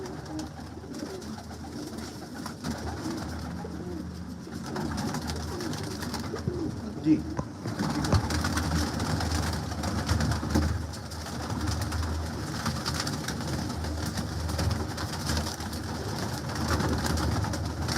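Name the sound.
pigeons of Ustad Dilawar Khan's breed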